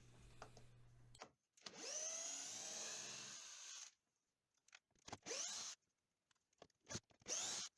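A power drill backing screws out of a log building, with one sustained whining run of a couple of seconds followed by several short, sharp bursts spaced by silence, up close and alone.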